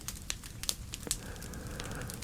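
Fire crackling in an antique fireplace with an iron grate, staged for ASMR: faint scattered pops and snaps over a soft, steady hiss, quiet and close with no talk.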